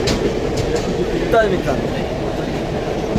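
Interior of a moving train with a constant loud rumble and rattle of the carriage, a brief wheel squeal partway through, and people talking over the noise.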